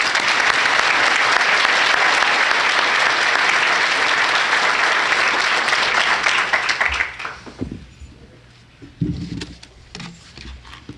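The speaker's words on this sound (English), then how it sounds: "Now with all that clapping" Crowd at a police department award ceremony gives loud, dense, sustained applause for the chief. It runs for about seven seconds, then thins into a few scattered claps and handling noises.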